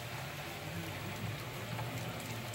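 Heavy rain pours down during a thunderstorm, a steady dense hiss of a downpour with no breaks and no voices.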